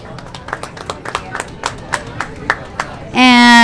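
Sparse, irregular claps from a small audience at a school governing board meeting recognizing students, moderately close and over background room noise, ending in a sustained tonal sound.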